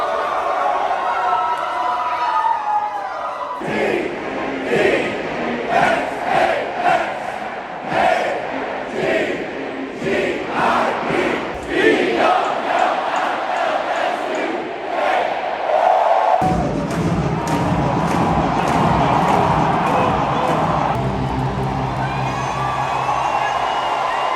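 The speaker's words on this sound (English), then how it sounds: "let's take in some of the sounds of the Colt. I mean, stadium." A packed stadium crowd roars at a Texas college football game under a blackout, with sustained cheering, whoops and rhythmic chanting surges, loud and enveloping, with a brief dip before swelling again.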